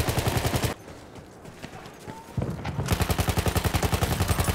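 Hellriegel submachine gun firing in a first-person shooter, loud rapid bursts with an evenly spaced rattle, a quieter pause with distant shots in the middle, then another long burst.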